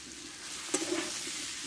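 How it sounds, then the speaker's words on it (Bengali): Pumpkin and a spoonful of sugar are stir-fried in a pan, giving a soft, faint sizzle with a single sharp clack of a spatula partway through and light scraping after. "সবগুলো একসঙ্গে একটু ভালোভাবে কষে নেব।"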